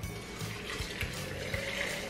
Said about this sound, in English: Then we are going to add hot water.